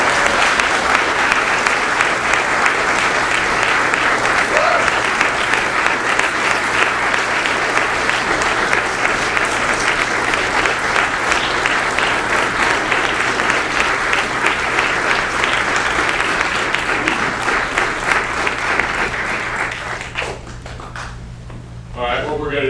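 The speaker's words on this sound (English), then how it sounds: "Give him a round of applause." Loud, sustained clapping from a crowd at a 2022 military promotion ceremony, dense and steady for around twenty seconds before it thins out and stops near the end.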